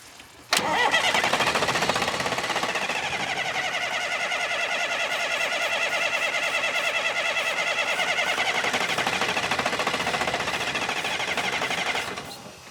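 An old engine left unused for 20 years cranks and catches at once, then runs steadily with a loud, busy, rattling idle for about eleven seconds before cutting off, with no talk over it.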